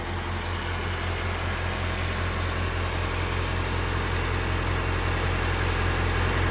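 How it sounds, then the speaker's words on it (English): A farm tractor engine runs steady and loud on a homestead while stalls are mucked, a continuous low idling rumble with vibration and no change across the clip. No talk is heard over it. "letting your wives drive the tractor"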